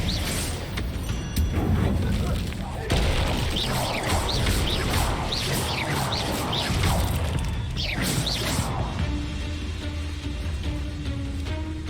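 Spell explosions from Bombarda and Confringo in the video game Hogwarts Legacy, fired among spiders in a maze cave: loud crashing blasts and whooshes with mechanical clatter, dense and continuous for several seconds before easing off.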